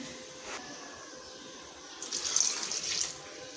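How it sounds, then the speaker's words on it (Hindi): A small amount of water is poured into a pot of dal tarka cooking with coconut milk, a soft gushing stream heard briefly and close, with no talk. "तो थोड़ा सा पानी डालूँगी"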